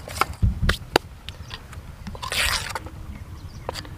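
Water added to a thick besan and tamarind pulp batter for fish fry, with short splashes and liquid squelches, a few brief knocks and a soft trickle.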